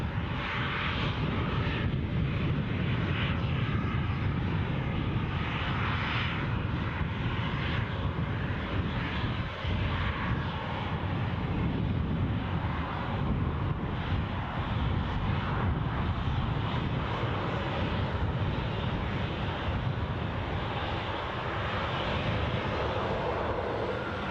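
Airliner at Newcastle International Airport, its engine roar steady and broadband throughout, fairly close and loud with no pauses.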